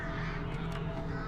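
Crows caw in the Alan Wake video game, a brief faint call set against a steady low ambient wash with no talking.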